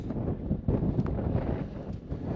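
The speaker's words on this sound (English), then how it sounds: "That's the way the wind's coming, and it's bitter." Bitter winter wind sweeps across snowy hills, buffeting the microphone with a steady, rumbling roar and gusty swells throughout, with no voices.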